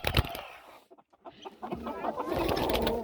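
Chickens and roosters cluck and squawk in a backyard poultry flock, a busy close chorus that briefly dips quiet midway before swelling again into overlapping calls.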